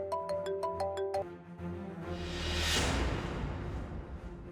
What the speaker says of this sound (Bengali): আর্য স্যার ফোন করছে।